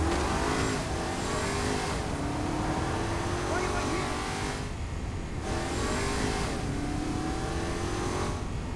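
Car engine droning and revving during driving in the Saints Row IV video game, a steady loud motor tone with rising pitch sweeps, mixed with game sounds.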